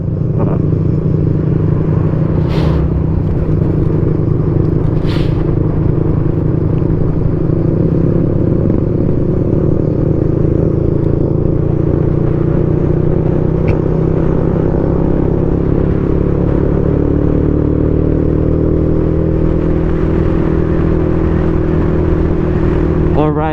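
A motorcycle rides a dusty, zigzagging mountain road in Masbate, its engine giving a steady, loud rumbling drone throughout with a few brief clicks and knocks. Voices may be faintly present under it.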